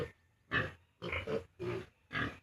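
A sow and her piglets on a farm grunt in four close, loud bursts of about half a second each, evenly spaced with short quiet gaps between.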